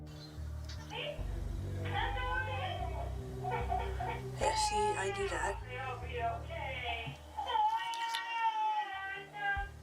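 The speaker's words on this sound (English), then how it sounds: "in these videos, you can hear the baby wailing in the background with no one to attend to her" A baby wails in the background, with high, strained cries rising in bursts around the middle and near the end, partly under a nearby adult voice talking.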